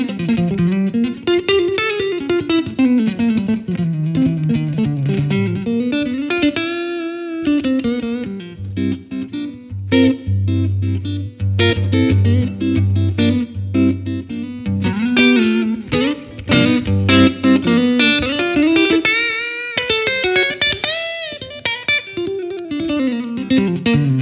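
Electric guitar played through a Fender Tone Master Twin Reverb amplifier, melodic distorted lines and chords with reverb, continuous and fairly loud with no talking.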